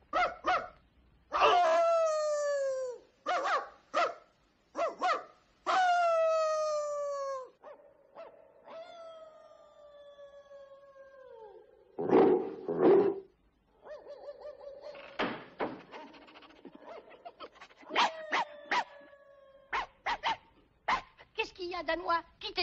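Dogs in the Twilight Bark of 101 Dalmatians, French version, barking and howling in repeated loud bursts with long drawn-out howls between them, mixed with a dog character's voice.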